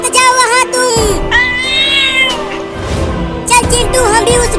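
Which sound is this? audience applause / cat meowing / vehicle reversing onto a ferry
cat meowing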